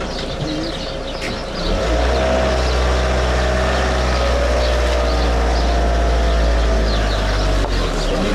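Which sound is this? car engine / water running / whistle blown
car engine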